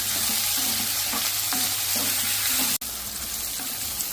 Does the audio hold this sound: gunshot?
no